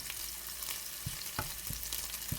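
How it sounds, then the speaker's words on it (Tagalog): Frozen tomatoes tipped into a hot pan, crackling and sizzling in steady hot oil, with a few soft stirring knocks and scrapes, close and fairly quiet. "Ngayon, maglalagay naman tayo ng kamatis."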